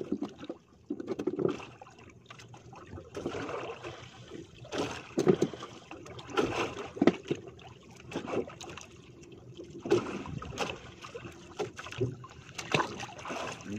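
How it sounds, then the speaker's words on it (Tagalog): A small fishing boat rocks on choppy seas driven by the northeast monsoon wind, with faint water sloshing and splashing against the hull in irregular bursts at low volume and no clear talk. "Malikot ng bangka dahil maalon, amihan."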